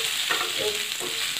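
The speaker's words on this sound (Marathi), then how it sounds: "आता आपण यामध्ये कैरीच्या फोडी घालूया आणि छान याला असं मिक्स करून घेऊया" Green mango pieces stirred and sautéed in a hot pan for a Maharashtrian mango relish, a steady close sizzle with scraping stir strokes.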